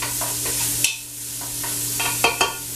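Onions and garlic sizzle and fry in a pot as they are stirred, a steady hiss broken by a few scraping stir strokes, close and moderately loud.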